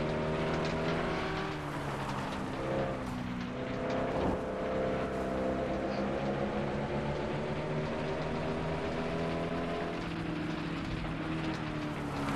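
A car engine races through a lap in the video game FlatOut 2, a loud, sustained mechanical roar whose pitch rises and falls with acceleration throughout, with no voices.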